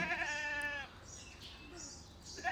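A goat lets out a loud, wavering bleat, then quieter bleating follows and another call starts at the end.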